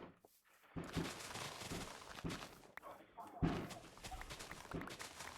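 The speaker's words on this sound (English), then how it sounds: "can you guys can hear these fireworks, eh?" Fireworks going off outside, heard as a run of sharp, muffled bangs and crackling bursts at a distance, repeating irregularly with faint voices in the background.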